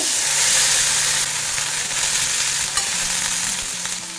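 Bitter gourd fries in a pan with a loud, steady hiss, while stirring adds soft scrapes throughout, heard up close with no talking.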